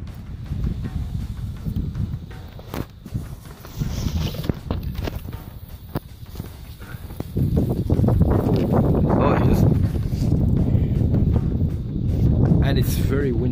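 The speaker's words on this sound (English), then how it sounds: "It's very windy, eh?" Strong outdoor wind roars and buffets the microphone in a low, continuous rumble while a fire is being made under a small open tent; people talk throughout and the gusts strengthen toward the end.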